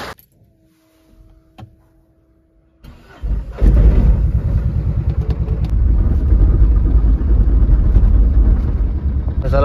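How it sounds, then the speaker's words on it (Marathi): After a few seconds of near silence, a car engine cranks and catches, then runs steadily and loudly as the car pulls out through an opened gate, with rain beginning. "पप्पांची गाडी निघते"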